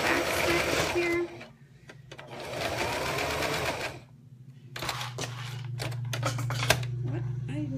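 A sewing machine stitches a zipper seam with a back stitch, running in quick rapid bursts separated by pauses, close and moderately loud, with a person talking faintly in the gaps.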